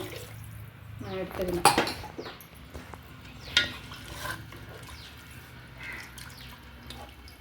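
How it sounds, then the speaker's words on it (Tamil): Water for cooking rice in a mutton biryani pours into a metal pot with splashing and clinks of cookware, a short spoken remark over it. "நான் வந்து அரிசிக்கான தண்ணியை வந்து இதில் வைக்கிறேன்."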